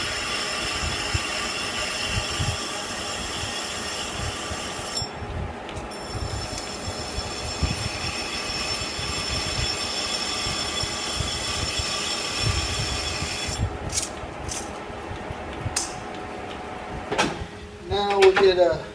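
A metal lathe turns a bend die, running with a steady rumbling drone and tonal whine that rises in pitch as the spindle speed increases, with scraping cutting noise near the end and someone talking over it.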